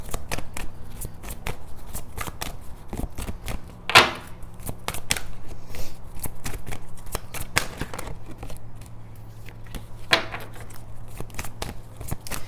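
Tarot cards are shuffled and drawn in a dense run of crisp card riffles and flicks, steady and close, with one sharper snap partway through and no speech.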